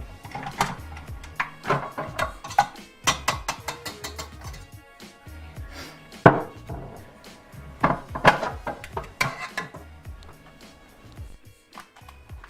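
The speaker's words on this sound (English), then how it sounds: "remove our whipped cream into a separate bowl" Whipped cream is scraped and scooped into a separate bowl, with a series of close, irregular utensil knocks and clatters against the bowls, some sharper and louder, and short pauses between them.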